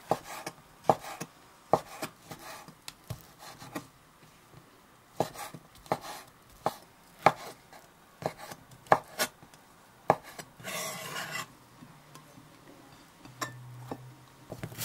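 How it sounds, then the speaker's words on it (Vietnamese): A knife dices soaked shiitake mushrooms into small cubes on a board, giving a run of crisp, close chopping taps in an uneven rhythm with short pauses between bursts. "Mình dùng 10 gram nấm đông cô đã ngâm nở. Cắt nhỏ hạt lựu ha."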